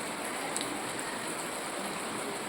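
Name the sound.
rain falling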